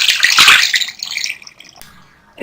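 Water poured from a glass into a cooking pot holding chicken, salt and a spice bundle for pulao stock, a loud splashing gush that tapers off, then a short final splash.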